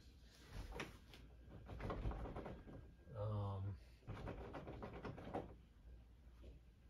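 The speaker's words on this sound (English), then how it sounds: "the door seems to be locked" A locked door is tried by the handle, giving a short mechanical rattle and clunk midway, with someone talking before and after it.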